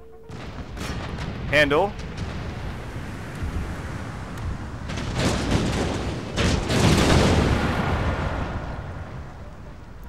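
Mortar and artillery fire booms through a battle in Empire: Total War with the Darthmod mod, several heavy blasts and rumbling volleys swelling over a noisy battlefield while someone talks over it.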